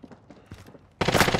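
Gunfire erupts in the video game Call of Duty Warzone: after faint scattered taps, a loud dense burst of rapid shots starts abruptly and continues to the end.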